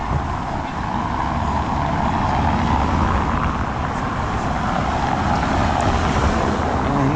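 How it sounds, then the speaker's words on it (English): A car rolls along a noisy cobblestone street in the centre of Paguera, Mallorca, giving a loud, continuous broadband rumble with tyre roar that stays fairly even throughout. No one talks. "A car goes past."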